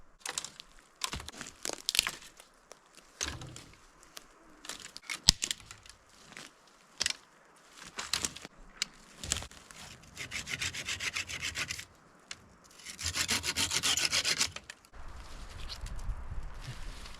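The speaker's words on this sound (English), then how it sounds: "So I'm gonna get some of this dead wood cleaned off the tree here, save it for firewood" Dead wood is broken and sawn off a tree at a wilderness campsite. Short snaps, rubs and cracks arrive in scattered bursts, followed by a longer stretch of rough sawing near the end, with no talk over it.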